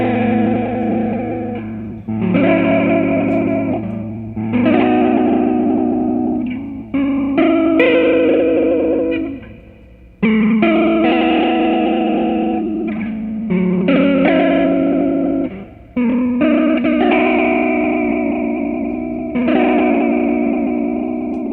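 A guitar runs through a FairField Circuitry ShallowWater pedal with every knob maxed except volume. Repeated chords warble and smear with a heavy, wobbly, degraded modulation and slightly distorted, loud, close and continuous, with no talking.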